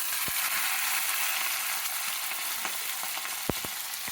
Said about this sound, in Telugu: ఉల్లిపాయలు, వెల్లుల్లిపాయలు, జీలకర్ర వేస్తాను, పచ్చిమిరపకాయలు అండి కడిగేసి వేసేస్తాము. అన్నీ వేయించుకోవాలి.